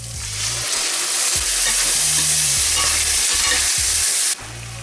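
Tomato puree hitting a hot pan for chicken tikka masala, a loud continuous sizzle and hiss with stirring scrapes throughout, dropping off abruptly near the end.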